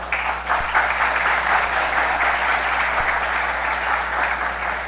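An audience at a religious gathering applauds steadily throughout, a dense, sustained wash of clapping from a large crowd with no pauses, close and even in loudness.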